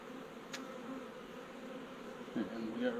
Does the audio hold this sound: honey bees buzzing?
yes